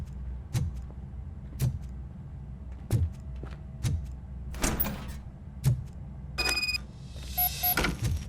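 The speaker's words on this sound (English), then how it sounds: "Now let me get that door open for you." Door opening in the RoboCop: Rogue City video game: a series of sharp mechanical clunks and thuds at regular intervals, then a burst of hissing, sliding metal noise.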